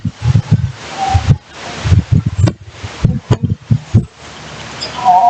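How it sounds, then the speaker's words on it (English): Outdoors in a gusty morning wind, leaves rustle and blow against the microphone in uneven bursts of noise, loud and close, with no talk. "It's a little windy today"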